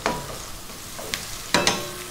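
Bacon and garlic sizzle in a pan over medium heat with oregano, salt and pepper. A soft frying hiss runs under several sharp scrapes and clinks of stirring.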